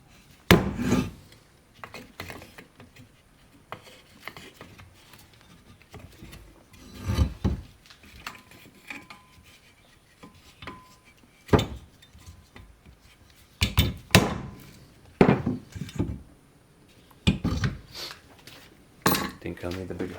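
Hammer taps on a Husqvarna 266/268 chainsaw part during a rebuild, a few sharp metallic-wooden knocks spaced irregularly among quieter handling and rubbing noises, close by.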